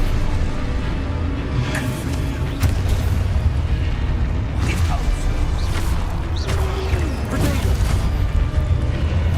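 Spell blasts and explosive booms from the video game Hogwarts Legacy fire in quick succession, dense and loud, with crashing impacts layered over a constant rumble of combat noise.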